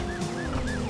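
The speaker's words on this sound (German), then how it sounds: "Das ist die Sirene vom Laden, den wir ausgeraubt haben" Alarm siren from a robbed shop in the video game Driver, a rising-falling electronic wail repeating in quick cycles over a constant low hum.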